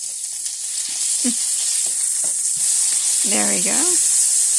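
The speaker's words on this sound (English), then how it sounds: "I can get the hamburger flipped over." A hamburger patty sizzles loudly in a pan after being flipped, a continuous close hiss with a few small clicks from the utensils, while someone speaks briefly near the end.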